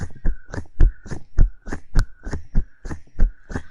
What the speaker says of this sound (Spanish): Es el latido de su espantoso corazón